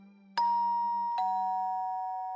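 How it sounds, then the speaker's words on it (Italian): Two-tone doorbell chime at a front door, a bright ding followed by a lower dong under a second, each note ringing on and slowly fading, clear and alone. "Massimo suona il campanello della porta"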